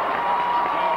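A dense, steady roar of a large crowd cheering at a high school state semifinal football game, loud and continuous with no break.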